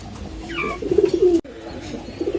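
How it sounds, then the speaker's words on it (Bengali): Golden young adult female pigeon cooing in low, soft throaty bursts over about a second and a half, close by, ending abruptly, with quieter coos and faint background noise afterward. "ভিউয়ার্স এখন যে কবুতরটা দেখাচ্ছে এটা হলো একটা গোল্ডেন নিউ অ্যাডাল মাদি কবুতর"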